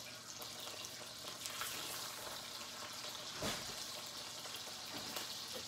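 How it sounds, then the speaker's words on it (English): Steady, dense sizzling of catfish fillets frying in a hot pan, a constant crackling hiss with one brief louder pop partway through. "we're going to put these fillets in the frying pan."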